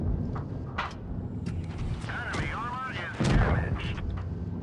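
Gunfire from a Valentine light tank in the World of Tanks Blitz video game: a few booming shots over a steady engine rumble, with one heavier blast late in the sequence.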